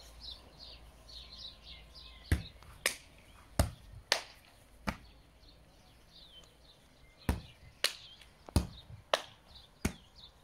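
A volleyball bumped and caught with a hand clap in a home workout drill, a run of crisp, sharp smacks and claps, about a dozen spread unevenly over the stretch, close and clear in a quiet room.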